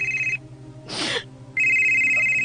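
A phone rings for an incoming call with a loud electronic trill in two bursts, separated by a short breathy noise, close and clear.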